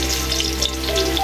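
Garlic and ginger sizzling in hot oil in a pan, a steady close crackling fry with a low hum underneath, lasting about a second with no voices.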